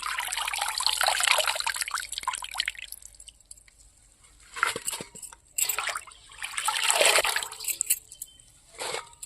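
Chukka kura (sorrel) leaves are swished and rinsed in a bowl of water, giving a dense splashing trickle at first, then a pause, then bursts of dripping and sloshing as the greens are lifted and squeezed.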